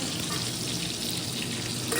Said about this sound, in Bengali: এই যে এখন আলু ভাজছি মটনের